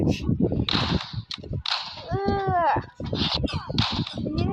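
Gunfire in a Thai war film scene cracks out in sharp, quick shots mixed with loud shouting voices, the reports close and punchy between and under the yelling.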